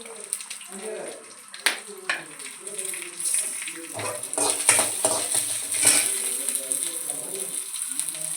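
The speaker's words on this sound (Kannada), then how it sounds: "ಹಾಕಿ ಚೆನ್ನಾಗಿ ಫ್ರೈ ಮಾಡ್ಕೊಳ್ಳಿ." Asafoetida and mustard seeds fry in a pan with urad dal, giving a soft sizzle under scattered metal spoon clinks and stirring, while someone talks over it.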